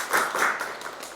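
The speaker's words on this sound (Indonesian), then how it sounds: "Kita berikan tepuk tangan." A class of nursing students claps for a lecturer in a classroom, a brief burst of scattered applause that swells and fades over about a second.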